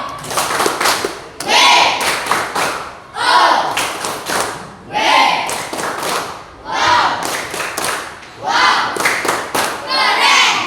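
An Indonesian classroom group does the 'tepuk wow' clap chant, several bursts of loud rhythmic hand claps with short pauses between, mixed with children's voices.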